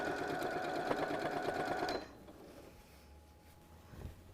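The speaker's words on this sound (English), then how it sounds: "Back stitching." Back stitching on quilt binding: a sewing machine whirs rapidly and evenly up close for about two seconds, then stops, leaving quiet room tone with a soft bump near the end.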